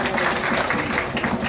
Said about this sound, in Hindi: जोर से तालियां बजाइए आर्या के लिए।